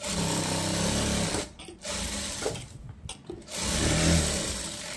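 A sewing machine stitching fabric at a tailoring class, a loud continuous mechanical whir that stops briefly twice, then restarts and runs on steadily to the end.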